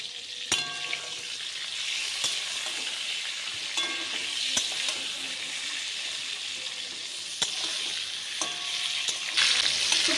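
Pointed gourd frying in oil in a pan, a steady close sizzle with occasional sharp clicks of a spatula stirring, heard alone without talk.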